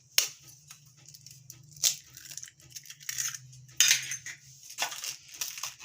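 Eggs beaten by hand in a bowl for fruit cake batter, with a quiet irregular series of whisking taps and scrapes against the bowl and a faint hum underneath.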